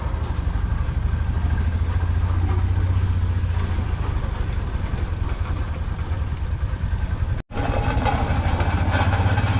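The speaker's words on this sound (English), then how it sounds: "This is our feature engine this year, Nichols and Shepard." Nichols and Shepard twin cylinder steam engine running at a steam show, a steady low rhythmic chuffing and mechanical rumble that holds continuously at moderate distance, broken by one brief cut near the end.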